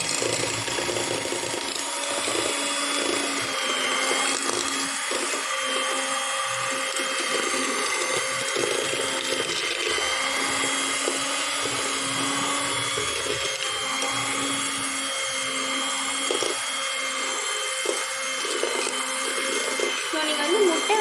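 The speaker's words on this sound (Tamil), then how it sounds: "கொட்டிட்டு நீங்கள் பீட் பண்ணுங்கள்." An electric beater whips eggs with white and brown sugar, a continuous whirring motor drone with a steady pitch that runs unbroken and fairly close throughout.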